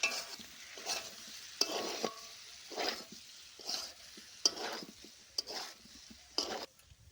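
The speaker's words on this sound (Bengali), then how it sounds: "মশলার সঙ্গে ডালগুলো ভালোভাবে ভেজে নিলাম" Washed moong dal frying with spices in a pan, stirred in regular scraping strokes about every second over a soft sizzle, close up and fairly quiet with no voices.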